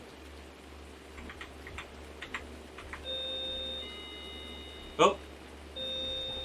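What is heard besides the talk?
doorbell ringing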